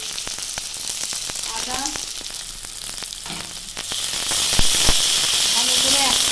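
Onion, tomato and garlic frying in a pan, sizzling steadily with clicks of stirring, the hiss growing louder and brighter toward the end while a voice speaks briefly.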